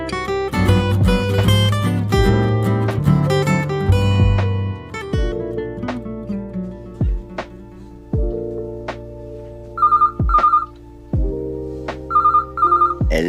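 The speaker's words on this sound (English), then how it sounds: "The phone. Yes, it's a phone." A telephone rings in repeated short electronic bursts in a sitcom scene, coming in after a stretch of music with sharp plucked notes, with no talking over it.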